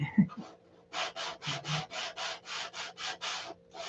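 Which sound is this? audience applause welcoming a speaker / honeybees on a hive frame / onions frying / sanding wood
sanding wood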